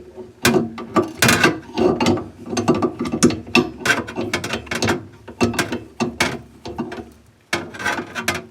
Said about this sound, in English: You would just take an adjustable wrench like this, put it onto that nut right there,